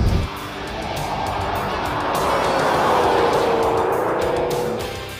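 A Mercury Marauder runs into Turn 9 at Willow Springs raceway, its V8 engine roaring steadily at speed with a rising pitch and a broad rush of wind and tire noise.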